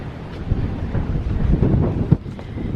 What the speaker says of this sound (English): that wind's really messing everything up